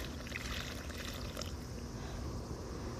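Water poured steadily from a container to soak plant roots, a continuous close splashing trickle lasting the whole moment with no talking.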